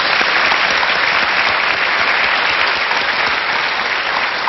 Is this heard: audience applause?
yes